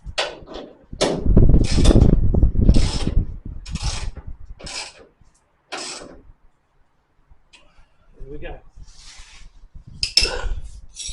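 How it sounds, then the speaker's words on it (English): A ratchet tightens bolts underneath a Holden Torana UC body mounted on a car rotisserie, giving close bursts of metallic clicking and rasping in short runs, with pauses and lighter clinks between them. "I'll get these bolts tightened up underneath now."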